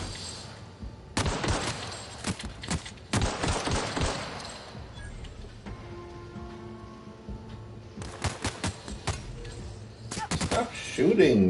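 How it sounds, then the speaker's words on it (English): Enemy gunfire in The Outer Worlds crackles in rapid bursts of sharp shots that stop, start again and trade back and forth. Quieter stretches with faint game sounds lie between the volleys. "Stop shooting me."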